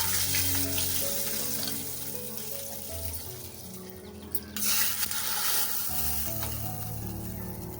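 Hot tempering of oil, asafoetida and curry leaves poured over a kokum drink gives a loud, close sizzle that dips briefly midway, then surges again with stirring and liquid sounds, no talking.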